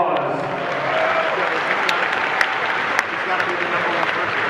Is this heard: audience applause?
yes